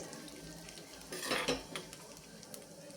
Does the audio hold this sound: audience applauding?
no